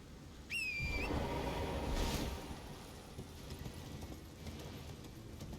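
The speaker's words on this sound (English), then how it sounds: "We can always summon our horse here." Horse hooves clip-clop steadily in Elden Ring, a continuous mid-distance trotting rhythm under game ambience, opening with a brief bright whistle-like call.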